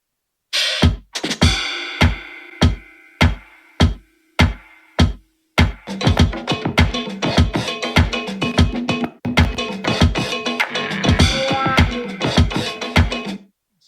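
Hip hop beat built from a producer's own drum sounds: sparse, punchy hits with a hummed sample at first, then a busier, dense loop with scratchy texture; loud, close and without talk.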